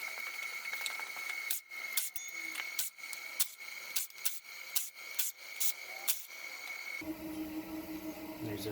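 Bolts come off a Subaru with a rapid clicking ratchet over a constant high-pitched whine, with a run of sharp, regular clacks through the middle, close and fairly loud, and a change in the background hum near the end.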